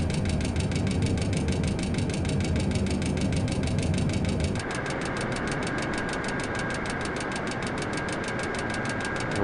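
Aircraft engines in a flight game drone steadily and loudly throughout with a dense, buzzing tone, shifting to a thinner, higher-pitched hum partway through; no one talks.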